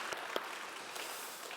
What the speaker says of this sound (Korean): 우리 환영의 박수 드리겠습니다.